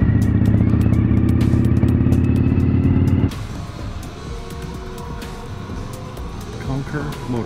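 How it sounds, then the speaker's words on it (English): A Harley-Davidson motorcycle engine rumbles loud and steady while riding, then drops abruptly to a quieter, rougher hum with clattering road noise behind. "And if you haven't figured out from the sounds, Ken rides a Harley."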